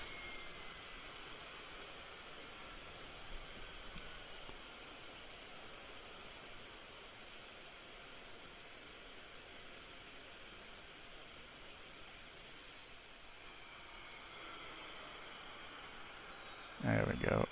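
A jet engine runs in the DCS flight simulator game, a steady roaring hiss and whine held at an even level throughout, with a sudden loud burst near the end.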